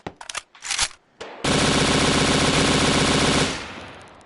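Suppressed automatic weapon firing in a VR shooter game: a few short muffled shots, then a dense continuous burst of rapid fire lasting about two seconds, loud and close, with no talking.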